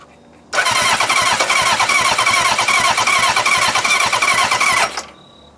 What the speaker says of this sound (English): we don't know if it's going to start or not. We don't even know if the starter works.